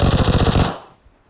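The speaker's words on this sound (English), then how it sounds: "watch this one shot, just one shot" Burst of rapid automatic gunfire from the mobile battle royale game PUBG Mobile, loud and close, with evenly spaced shots for about two-thirds of a second before cutting off into quiet.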